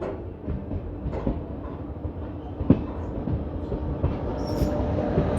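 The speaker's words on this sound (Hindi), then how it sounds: "सामने से आ रही है सरबत दा पला एक्सप्रेस" The Sarbat Da Bhala Express, train 22479 hauled by twin WP5 diesel locomotives, passes with a steady low rumble and irregular wheel clatter, fairly loud and continuous, with a brief squeal near the end.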